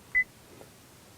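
Single short electronic beep from a Honda Ridgeline voice command system, a brief clean tone followed by quiet cabin silence.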